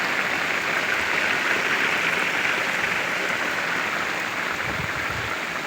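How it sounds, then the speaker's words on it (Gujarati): Gentle rain falls on an open farm field, a steady, even patter and hiss that stays constant throughout with no voices. "આજે ધીરે ધીરે વરસાદ વરસી રહ્યો છે ખેતરમાં।"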